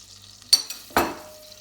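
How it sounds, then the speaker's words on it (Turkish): Tomato paste is sautéed in butter while being stirred, with two brief scraping stirs followed by a soft, fading sizzle, close and fairly quiet. "Tereyağımızla birlikte şöyle bir kavuralım. Bir tatlı kaşığı domates salçamız."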